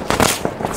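Firecrackers go off in a quick burst of loud, sharp cracks and pops, close by and densely clustered, at a fireworks setting at night.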